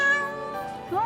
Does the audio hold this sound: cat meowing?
yes